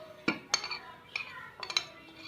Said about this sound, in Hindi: इसमें पोटैटो डालेंगे, पल्प, ये सारी चीज़ें मिक्स कर देंगे